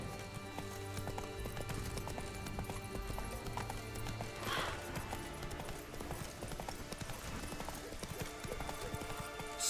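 Video game horse hooves clip-clop in a steady trot throughout, a continuous rhythmic beat with a brief louder burst midway.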